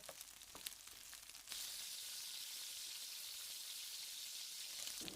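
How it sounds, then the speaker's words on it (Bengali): Onions lightly frying in a pan with salt, a steady soft sizzle that swells after a few clattering touches at the start, then holds even and close. "পেঁয়াজগুলো এরকমই ভাজতে হবে, খুব বেশি ভাজতে হবে না,"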